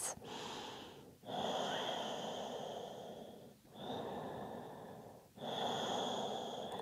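Deep, full breaths in yoga child's pose, four long audible breaths through the nose in a slow, even rhythm with short pauses between them, close and alone with no talking.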